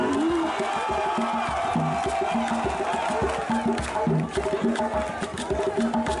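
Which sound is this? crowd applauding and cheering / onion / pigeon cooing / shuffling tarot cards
crowd applauding and cheering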